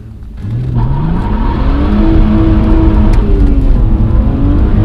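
A BMW 330ci Clubsport engine revving hard as the car accelerates on a deserted road, loud and close, its pitch climbing steadily through the gears with a rising, sustained roar and no talk.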